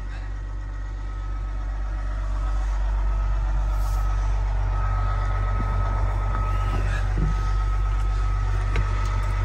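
A 1986 Ford LTL 9000 truck's diesel engine runs with a deep, steady idle that swells slightly as it settles, with a faint hiss of air and occasional light knocks; no talk.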